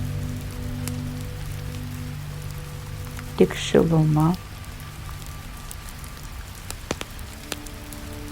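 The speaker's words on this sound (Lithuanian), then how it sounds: "Tik lietus." Steady rain falling outside a hotel room window, a soft continuous patter with a low hum underneath. A voice speaks briefly over it midway, then the rain carries on alone with a few faint drips.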